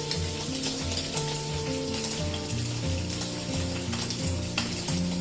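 Garlic frying in a pan for spaghetti aglio olio gives a dense, continuous sizzle and crackle with a steady low hum underneath, even in loudness throughout, and no one speaks.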